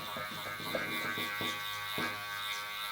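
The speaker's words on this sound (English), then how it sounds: "Going to work some clipper over combs" Electric hair clippers give off a close, steady buzz while they work clipper-over-comb during a long-to-short buzz cut. The motor hum runs the whole time, broken by short scraping pulses as the comb and blades pass through the hair.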